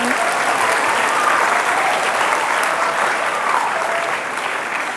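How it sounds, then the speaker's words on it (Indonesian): Sustained applause from a large audience at an Indonesian motivational seminar, steady dense clapping filling the whole stretch at an even level without a break. "Oke, tepuk tangan."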